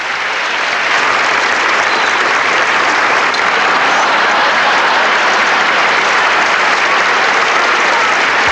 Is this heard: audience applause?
yes